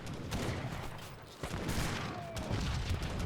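Foot carabiniers fire grenades in a battle in the video game Age of Empires III, giving a fairly quiet, distant rumble of overlapping blasts and shots with one short dip midway before the clatter resumes.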